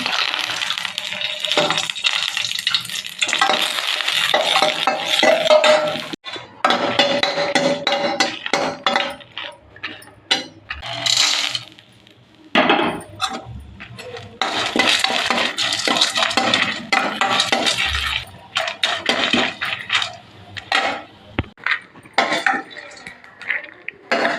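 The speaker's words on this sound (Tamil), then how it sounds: "இப்போ காஞ்ச மிளகாய் வறுத்துக்கலாம்." Dried red chillies dry-roast in a pan for idli podi, a busy rattle of light pods tossed and scraped with a metal spoon, clattering and clinking loudly in bursts with short pauses.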